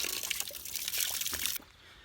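Fresh mountain spring water running and trickling steadily, poured close by for drinking on a morning walk in the Bulgarian mountains, loud and continuous before cutting off sharply near the end.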